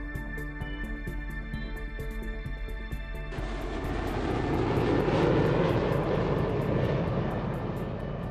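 An airplane's engine drone swells into a broad, steady roar partway through, rising above a soft musical backing.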